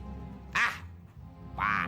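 A pet bird in an Indonesian TV drama gives two loud, quacking, duck-like calls about a second apart over a quiet background hum.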